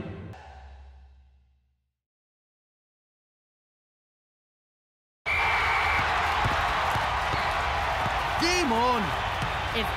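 A noisy home crowd roaring in a cartoon soccer stadium, a dense, loud, continuous cheer that bursts in suddenly after several seconds of silence, with whistles and brief voices rising above it.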